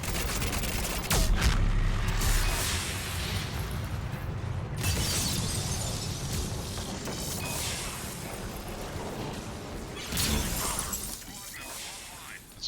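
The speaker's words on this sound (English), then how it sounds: "So this is already going very well with all the snap freeze explosions." Snap freeze explosions in the Mass Effect 3 co-op game, repeated shattering bursts and booms amid gunfire, loud and chaotic with voices talking over the action.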